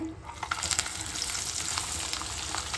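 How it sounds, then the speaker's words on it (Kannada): Fish kebab mixture made from tiny fish frying in hot oil: a steady, close crackling sizzle with a few brighter pops as pieces hit the pan, no voices. "ಇವಾಗ ಎಣ್ಣೆ ಕಾದಿದೆ ಮಿಕ್ಸ್ ಮಾಡಿರೋಂಥ ಮೀನನ್ನ ಇದಕ್ಕೆ ಹಾಕ್ಕೊಂಬರ್ತೀನಿ"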